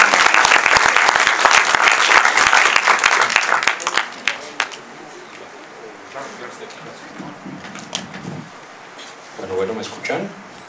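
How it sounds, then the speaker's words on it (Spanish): Loud audience applause fills a lecture hall at a neuroimmunology talk, dense clapping for about four seconds before fading into scattered claps and room murmur. "Recibámoslo con un fuerte aplauso,"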